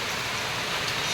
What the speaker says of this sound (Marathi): पाऊस जोरात चालू आहे मात्र